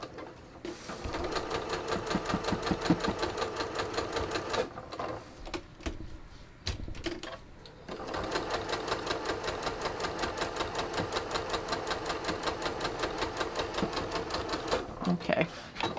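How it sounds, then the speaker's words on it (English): A domestic sewing machine runs steady, even stitching through stretchy knit fabric sewn with Seraflex thread at a 3 mm stitch length, pausing briefly midway before resuming its close, rapid mechanical hum. "my stitch length back up to 3 millimeters long. And I'm just going to let it stitch."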